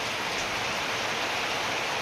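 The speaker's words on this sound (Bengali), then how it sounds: "বৃষ্টির শব্দ পাইছেন" Dense, steady rain pours down in a continuous hiss, heavy and unbroken throughout with no other sounds.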